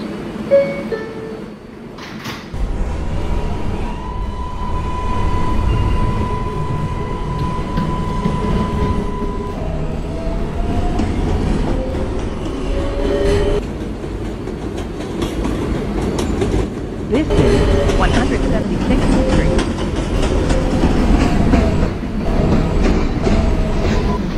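An R142A subway car on the 4 line, Woodlawn-bound, running steadily for the whole stretch with a loud continuous rumble, rhythmic rail clatter and a brief tonal whine early on, recorded from inside the car.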